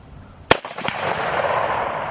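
A single sharp rifle shot from an Egyptian Hakim 8x57mm Mauser cracks out, followed by a quick secondary ping like a round striking a target rim, then a lingering outdoor echo.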